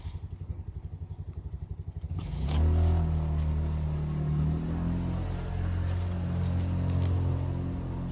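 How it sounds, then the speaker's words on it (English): A motorbike idles with a rapid putter, then revs up and rumbles steadily as it rides out through a gate nearby, with no voices. "it's just a motorbike just going out the gate there."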